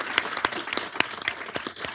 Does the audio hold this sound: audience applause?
yes